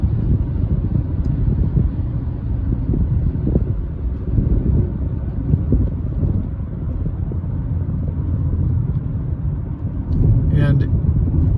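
A car drives along Manhattan's West Side Highway past the Upper West Side on a Saturday evening, with a steady low road rumble and some wind buffeting throughout, and a brief higher noise near the end.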